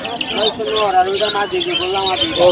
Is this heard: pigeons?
yes